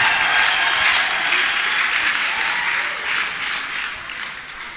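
A church congregation claps steadily and cheers at a worship service, a dense wash of applause that fades gradually, with no speech over it.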